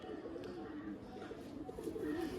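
Madras flying pigeons, among them a female, coo in wavering, throaty phrases close at hand, the calls rising and falling continuously over a low background drone.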